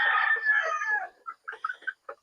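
A rooster crows loudly up close, then a few short clucks follow in quick succession, on a farm in Basilan.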